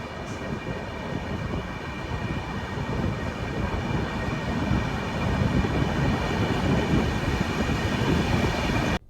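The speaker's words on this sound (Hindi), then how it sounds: "2 मिनट मतलब 2 मिनट डिपार्चर हो चुका है अपना दुर्गापुर रेलवे स्टेशन से" A Rajdhani Express rolls out of Durgapur railway station as a steady, dense rumble and rattle heard from on board, loud and continuous throughout.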